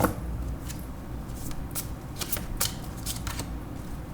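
Shiva oracle cards being shuffled by hand, a steady papery riffling with brief crisp slaps, close and alone with no voices.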